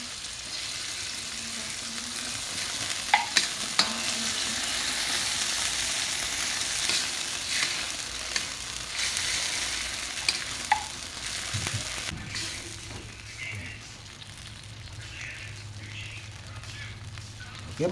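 Garlic, onion, tomato and sardines sauté in a hot pan for a squash dish, a loud, continuous sizzle broken by occasional clinks of a spatula stirring, with faint voices in the background.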